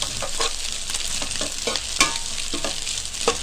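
Curry leaves being stir-fried in a pan while cooking road-side style egg noodles: a steady, loud sizzle with repeated scraping stirs from a spatula, close up and with no voices.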